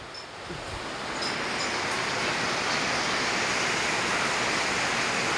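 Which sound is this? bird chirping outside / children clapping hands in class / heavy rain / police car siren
heavy rain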